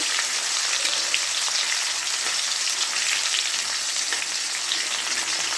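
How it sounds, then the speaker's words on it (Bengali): Bitter gourd fries in hot oil for a shukto, giving a dense, even crackling sizzle that stays close and steady throughout, with no voices. "উচ্ছেটা দিয়ে দিলাম, উচ্ছেটাও ভেজে নেব"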